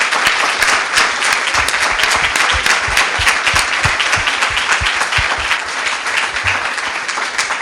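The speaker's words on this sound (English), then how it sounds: "So massive round of applause." Loud, sustained applause from a crowd at a students' union election results announcement, dense steady clapping filling the whole stretch without talk.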